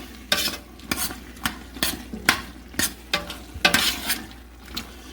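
Carrot cake jam thickened with pectin bubbles in a pot while a spoon stirs it in regular strokes, each one scraping and clacking against the pot over a soft boil.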